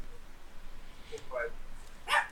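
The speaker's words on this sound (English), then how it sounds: "And there goes my dog again." A dog barks in a home, a few short yips and then one sharper bark at moderate distance, set against a quiet background where speech is likely present.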